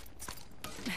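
A weapon reloads in Apex Legends: quick, quiet mechanical clicks and a metallic clack in one short sequence, heard over low background game noise.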